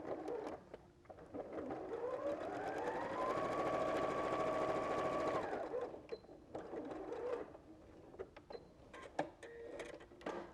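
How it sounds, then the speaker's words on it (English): A sewing machine stitches a quilt block along either side of a drawn diagonal line, its motor rising to a steady whirr for a few seconds and then slowing and stopping, close and moderately loud. "I'm just going to sew these either side of the diagonal"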